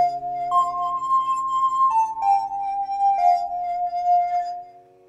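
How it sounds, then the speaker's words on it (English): A Waves CR8 sampler keyboard plays a slow descending line of held notes with a reedy, Farfisa- or Mellotron-like organ tone, steady and clear, no voices. "This kind of sounds, let's see, kind of has like a Farfisa or a Mellotron sort of feel to it."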